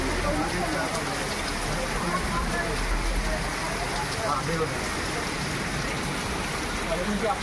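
Heavy rain pours steadily outdoors during a stormy first monsoon downpour in Konkan, with strong winds; the dense, constant hiss stays loud throughout.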